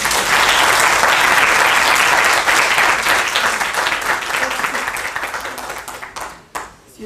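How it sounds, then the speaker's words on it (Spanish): Audience applause for three speakers at an academic panel on technology in elections, a full crowd clapping loudly at first and then gradually thinning and fading toward the end, with a few last claps and no speech. "por favor, un aplauso para los 3 ponentes."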